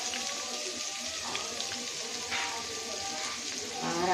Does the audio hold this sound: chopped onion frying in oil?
yes